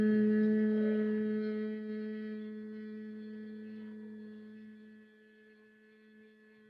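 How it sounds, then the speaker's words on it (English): A person hums a low, steady tone during a breathing exercise, one sustained note slowly fading over several seconds with no talk. "we'll make the humming sound."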